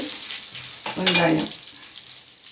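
Dried chillies fry in coconut oil with a steady close sizzle while being stirred, a brief burst of louder crackling and scraping rising midway before settling back to a soft continuous hiss.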